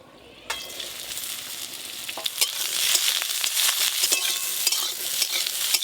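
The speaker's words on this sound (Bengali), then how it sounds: "সর্ষের তেল, আজকে টকে ফোড়নে দেবো শুকনো লঙ্কা আর 5 ফোড়ন। শুকনো লঙ্কা, 5 ফোড়ন, কেটে ধুয়ে রাখা বেগুন," Dried red chili, panch phoron and washed, cut eggplant hit hot mustard oil with a sudden loud sizzle that settles into steady, close crackling frying with stirring scrapes, no voices.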